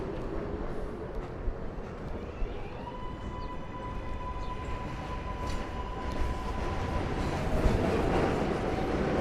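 An elevated 7 subway train in New York City rumbles past heading toward Main Street. It gives a steady, loud roar with a long, high wheel squeal held through most of the pass, and no voices are heard.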